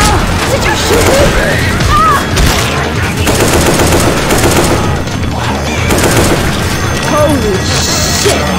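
Gunfire in the Left 4 Dead 2 zombie shooter: dense, continuous rapid shots and booming blasts mixed with crashes and game chaos, loud and unbroken for the whole stretch, with players' voices shouting beneath.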